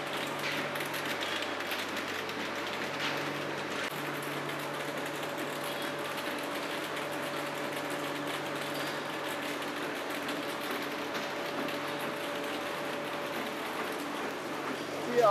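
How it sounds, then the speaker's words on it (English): Walnut dryer machinery in a processing facility hums and rattles steadily at moderate distance during loading, a constant mechanical whir with faint tonal drones and no clear breaks. "as you can see we are loading the 3rd dryer now"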